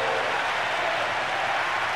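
Stadium crowd in the video game Winning Eleven 10 roaring after a goal, a steady, dense broadband cheer with no breaks, loud and continuous.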